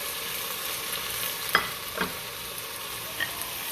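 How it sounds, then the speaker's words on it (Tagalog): Onion, tomato and green chili frying together in a pan for macaroni with sili haba, a steady broadband sizzle throughout with a couple of brief utensil clinks and stirring knocks. "Lagay natin itong sibuyas. Lagay natin ang kamatis at saka yung sili ng green."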